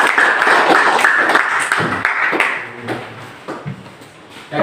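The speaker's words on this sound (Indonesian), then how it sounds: "berikan tepuk tangan untuk kelompok 2" A classroom of students clapping for group 2, a brisk burst of many hands nearby that thins out and fades toward the end.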